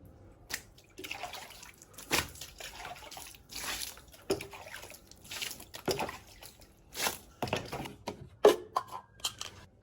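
Rugs are washed by hand with water, giving irregular splashes, drips and wet squishing scrubs up close, with short quiet gaps between them.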